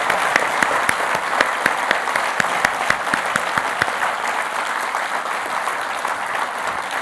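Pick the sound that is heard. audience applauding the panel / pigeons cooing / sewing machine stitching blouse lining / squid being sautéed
audience applauding the panel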